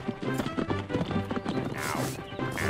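Horse hooves clip-clop in a quick, uneven rhythm close by, mixed with busy cartoon-style background sound and a brief whinny-like rising tone near the end.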